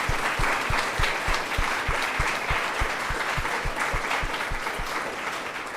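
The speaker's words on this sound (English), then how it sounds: "we need to give one more big round of applause for all 5 of our wonderful authors" An audience at a BC and Yukon book prize event claps steadily for five authors, a dense, sustained round of applause heard fairly close.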